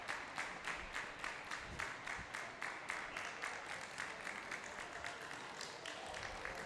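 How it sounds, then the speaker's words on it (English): Crowd clapping steadily in a rhythmic, unified beat at a senior mixed doubles badminton match while a review decision is pending, filling the hall with sustained applause at moderate distance. "Crowd are clapping and waiting,"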